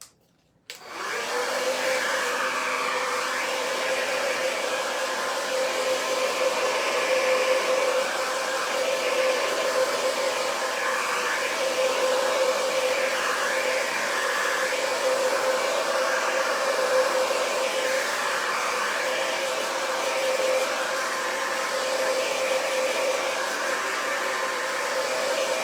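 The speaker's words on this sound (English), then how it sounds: "I'm gonna grab my blow dryer here" Blow dryer on its cool setting drying a crafting transfer, a loud, steady whirring blast that switches on abruptly and runs unbroken at an even pitch, close to the mic.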